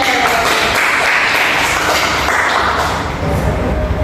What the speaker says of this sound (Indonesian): Kali ini beri tepuk tangan untuk Mbak Ade.